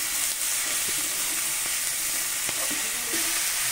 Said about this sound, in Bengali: আবারও সবজি আমি ভালো করে কষিয়ে নিচ্ছি